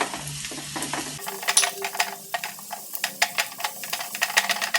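Fish roe and other ingredients sautéed with salt in a pan for a Kerala-style parinjeel thoran, sizzling steadily while a spoon scrapes and stirs in quick irregular strokes, close and alone.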